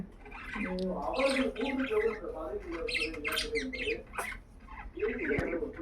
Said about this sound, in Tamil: அதுங்க உரும்புறத சொன்னா நீ நம்ப மாட்டேற பாரு